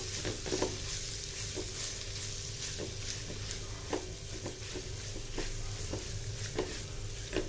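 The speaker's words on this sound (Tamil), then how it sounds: "இந்த எண்ணெயிலே நல்லா வதக்கிடலாம்" Curry leaves and garlic sauté in hot oil in a pan, a steady soft sizzle broken by regular scraping stirs of a spoon, close and fairly quiet with no voices.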